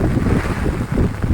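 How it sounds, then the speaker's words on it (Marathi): Gusty wind buffets the microphone outdoors on a Konkan farm as rain arrives, a steady loud rumbling roar with no talk. "अरे वारा उडवतोय"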